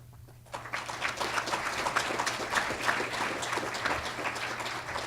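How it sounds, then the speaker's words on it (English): Applause at a 2015 Law Day awards ceremony breaks out after a brief quiet moment, a dense, steady crowd clapping that fills the room and continues evenly to the end. "please hold your applause"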